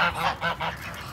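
Muscovy ducks in a large flock call with several hoarse, honking bursts in quick succession, close and fairly loud, with no talking.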